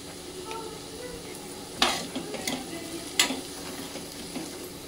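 Onions with a little salt frying softly in a pan, stirred now and then, with a steady low sizzle and two sharper scraping clicks from the spoon.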